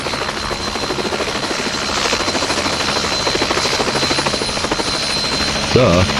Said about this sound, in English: Why is there a police helicopter here for?